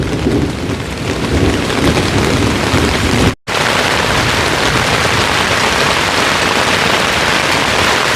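Heavy rain pounds steadily on a tent roof at a campsite in Mousetail Landing State Park, a dense roar of drops, broken by one brief silent gap.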